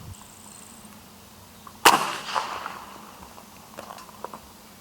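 A .50 caliber Sam Yang Dragon Claw airgun fires a 336-grain cast lead bullet at a range: one sharp, loud report with a brief ringing decay, then faint scattered clicks and handling noise.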